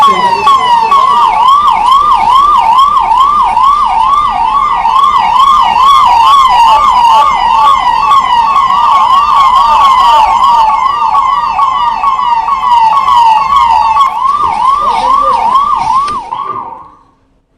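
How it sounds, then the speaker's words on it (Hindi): An ambulance siren wails loudly and close by at a plane crash site, its rising and falling tone cycling rapidly and continuously before cutting off abruptly near the end. "फौरन मौके पर एम्बुलेंस पहुंची"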